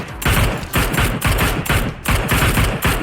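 Rapid bursts of automatic gunfire from PUBG Mobile, loud and close, repeating in dense volleys roughly every half second with heavy low thumps, and no talking over it.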